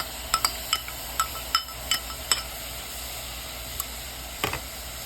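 Ground tomato and shallot paste goes into a pan for a vegetable kurma, with a soft background sizzle broken by a series of sharp clinks and scrapes of a spoon against the pan, irregular and close.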